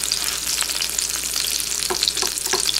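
A Parmesan and fried-onion crusted swai fish fillet sautés in a pan, giving a steady close sizzle and crackle with no talking.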